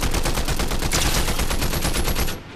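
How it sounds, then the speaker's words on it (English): Sustained rapid automatic gunfire in a Warzone video game fight near a gas station, loud and continuous bursts filling the scene before cutting off abruptly at the end. "I'm letting you do all the shooting."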